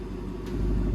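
A 347 Foxbody Cobra engine rumbles at idle, then swells in the second half as the revs rise in track mode, a deep, loud, close exhaust drone with no voices.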